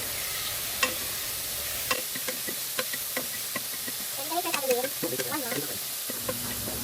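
Beef pares sizzles and fries in a pan while being stirred, with steady hissing and occasional scraping clicks, close by, and a brief voice partway through.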